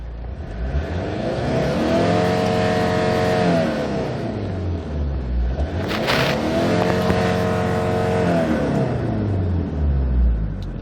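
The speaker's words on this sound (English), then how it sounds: "let's try to accelerate and see the RPM movements." Hyundai Terracan JX250 4WD with manual transmission revving up twice, engine pitch climbing, holding high, then dropping back to idle each time; a loud, close, continuous rumble with no talk.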